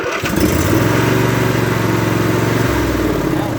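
Small engine of an old junk riding lawn mower, running on a battery with the mow and reverse safety switch not bypassed, cranking and catching into a loud, steady, close idle drone.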